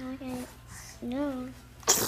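A single sharp sneeze bursts out at the very end, right after a short spoken exchange at a baby shower.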